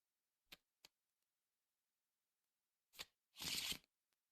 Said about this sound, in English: All right, we'll shuffle this back in.